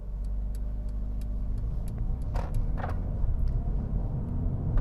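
A Mercedes-AMG CLA35 4MATIC pulls away, a low steady engine hum heard from inside the cabin with a few light clicks and ticks, fairly quiet and even.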